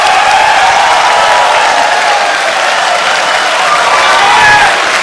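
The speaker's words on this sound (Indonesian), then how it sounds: "Silakan tepuk tangan." Audience applause fills a 2014 Indonesian presidential debate hall, a dense, steady wash of clapping with scattered cheers that holds strong for the whole stretch without pausing.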